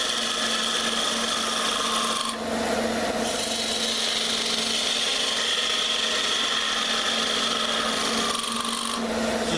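A spinning wooden top blank on a wood lathe is cut down to a tenon, a loud, continuous rasping scrape of the tool against the wood with a brief change in tone partway through.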